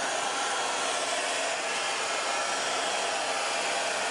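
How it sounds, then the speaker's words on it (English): A hair dryer on a high setting blows a steady, loud, unbroken whoosh while heating plastic window shrink film a few inches away, with no talking. "Now let's put the hair dryer to work."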